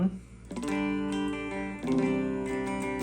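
Sustained, harmonically rich electric guitar tones from a factory preset on a Boss ME-25 multi-effects unit ring out, with new chords struck about halfway through, played alone with no talking.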